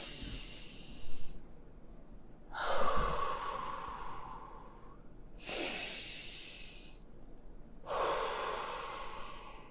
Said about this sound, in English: let's just take a second to breathe.